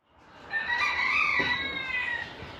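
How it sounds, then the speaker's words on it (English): A rooster crows once, a loud, drawn-out cock-a-doodle-doo heard up close with nothing else around it. "Just as the rooster crows"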